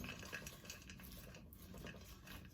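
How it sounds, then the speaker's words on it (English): Sardines and tuna are being mixed in a bowl, with close, quiet clinks and scraping stirs of utensil against dish, continuous and without talk. "So I'm going to go ahead and mix this up a little bit."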